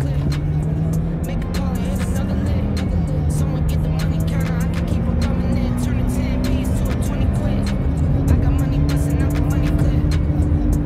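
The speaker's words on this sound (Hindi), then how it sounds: "सबसे पहले तो मैं इसका थ्रॉटल रिस्पांस आपको चेक करवाता" The engine of a new 2016 Audi A4 hums steadily through repeated throttle blips in a check of its response, the pitch rising and falling in steps.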